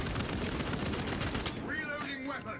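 Sustained rapid auto bolt rifle fire from Warhammer 40K: Space Marine 2, a continuous dense rattle of shots emptying one magazine, close and loud, with someone talking over the second half.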